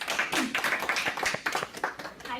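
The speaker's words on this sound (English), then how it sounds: "Let's give them a round of applause." Audience clapping for presenters at an academic talk, a dense patter of claps from a modest crowd lasting a couple of seconds.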